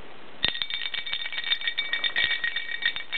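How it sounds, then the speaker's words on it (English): A small metal rumbler or crotal bell, a dug-up metal detecting find, is shaken in rapid, uneven jingles, giving a bright, close, rattling ring that keeps going throughout with no talking. "A rumbler bell or crotal bell."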